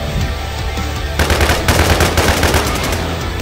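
Rapid automatic gunfire in a video game starts suddenly after a quiet stretch and continues as a loud, dense burst of repeated shots to the end.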